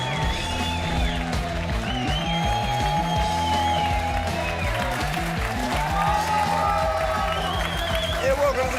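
A studio audience applauds and cheers through a late-night football talk show opening, a steady dense wash of clapping with whoops over a music bed.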